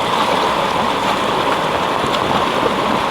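Rainwater rushes over landslide debris blocking a road at a hill pass in Maval, Pune, a steady close gushing flow with no voices over it.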